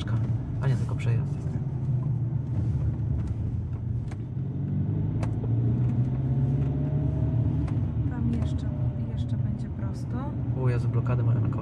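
A car rolls slowly through city streets in Silesia, Poland, its low engine rumble and tyre noise steady throughout while people inside talk over it.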